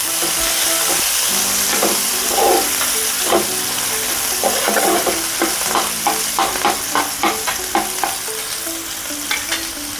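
Onions sizzle steadily in a hot pan, with repeated scraping stirs punctuating the frying hiss at a regular pace, close and fairly loud.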